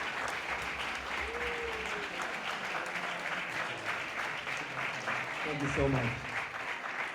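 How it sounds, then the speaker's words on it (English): Audience applause in a room at a student business pitch event, a sustained patter of clapping that continues under a voice speaking briefly. "So a big warm applause for the Dragons"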